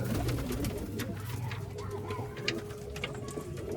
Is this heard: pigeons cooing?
yes